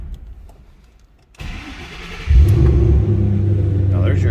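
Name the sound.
2007 Ford Mustang Shelby GT500 engine starting and idling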